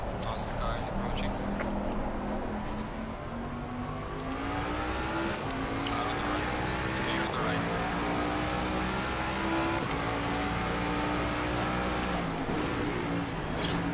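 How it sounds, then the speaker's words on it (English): Race cars in a racing video game approaching and passing, a continuous loud engine drone with rising and falling pitch sweeps, heard under talk throughout. "Fast cars approaching."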